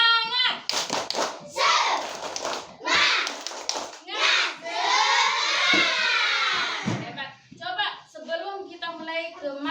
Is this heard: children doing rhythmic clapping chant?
yes